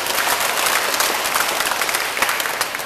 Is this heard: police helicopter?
no